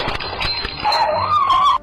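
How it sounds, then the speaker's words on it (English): A dog in a house reacts to a raccoon, giving short whimpering yips followed by a rising, drawn-out whine, loud and close, with no speech. "And her dog jumps into action"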